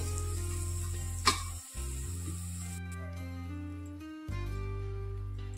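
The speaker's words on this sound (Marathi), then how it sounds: "आपला लसूण आणि कोथिंबीर छान परतली." Garlic and coriander sauté in a hot pan for kulith shengole, giving a steady close sizzle. A brief clatter comes early and there is a short dip in the sound, then the frying continues evenly.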